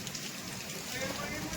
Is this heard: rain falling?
yes